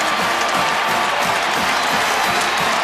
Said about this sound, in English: Huge crowd on hand, larger than a year ago,